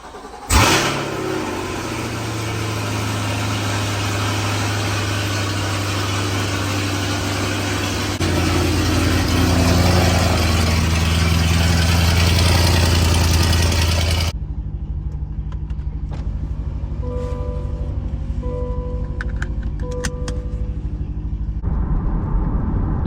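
A car engine with a catless exhaust cranks and fires, idles roughly, then revs up loudly for several seconds before dropping off to a quieter idle with faint clicks.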